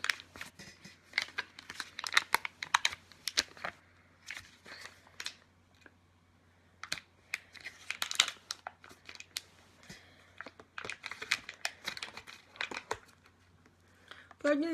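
A packet of LR Health and Beauty anti-wrinkle skincare pads soaked in liquid is opened by hand, giving close, sharp crinkles and rustles in bursts with short pauses, over a faint steady hum.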